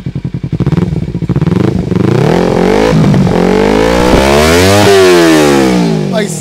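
A Kawasaki Ninja 300 fitted with an aftermarket exhaust revs hard and repeatedly, its engine note rising and falling in loud, close sweeps. Exhaust crackle and clatter come through between the pulls.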